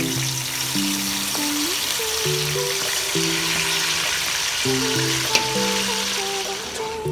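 Continuous sizzle of fresh tomato frying in oil in a hot pot, close and even, with music playing over it and a small clunk near the end.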